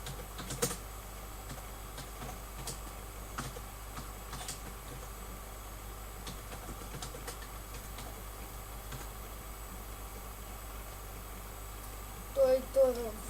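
Steady soft clicking of a computer keyboard as someone types a message during a Minecraft server session, continuous and close under a faint background hum, with a brief burst of voice near the end.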